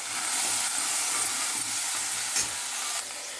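Onions sautéing in a pan with a little salt for a tomato kurma, a steady bright sizzle and hiss that stays even and close throughout, with no voices.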